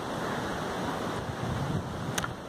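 Strong wind buffets the microphone on an exposed mountain-top hiking trail near Chakrata, a steady loud broadband roar filling the whole clip with gusty swells and no voices.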